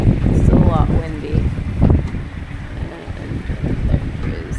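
Strong wind buffets the microphone in gusty roars over the rush of open sea with big waves aboard a sailboat, with a voice speaking underneath.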